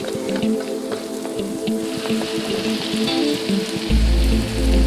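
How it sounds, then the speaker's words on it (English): Onions sizzling and caramelizing on medium heat in a pan holding leftover meatball juices, a steady close crackle and hiss with a low rumble rising near the end. "toss in our onions, and caramelize them until they're nice and golden"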